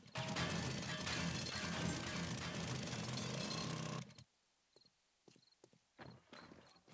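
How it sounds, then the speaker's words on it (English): Auger drilling in the zombie survival game 7 Days to Die, a loud continuous grinding roar for about four seconds that cuts off abruptly, followed by faint scattered clicks and thuds. "Get our auger."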